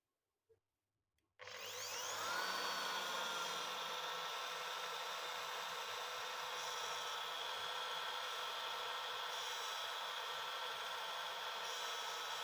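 Braxter wood trimmer router spinning up at its lowest speed setting, a steady loud high-pitched whine that starts abruptly after a brief click and holds constant with no talking.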